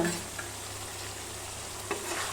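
Goat brain frying in oil with masala in a pan, a steady soft sizzle with faint stirring scrapes and a couple of brief louder pops, no voices.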